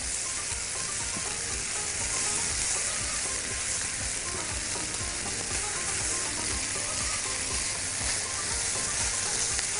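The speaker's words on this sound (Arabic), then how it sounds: "لازم اشوح الرز مع العدس مع الخضار كويس قوي لغاية ما الرز كده يبقى زي ما انتم شايفين كده ابتدى يلمع" Rice, lentils and carrots sizzle steadily in a hot pan while being stirred, a dense continuous frying hiss with soft scraping stir strokes and no voices.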